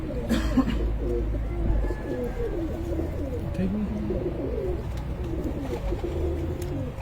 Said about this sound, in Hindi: कबूतर भी अच्छे हैं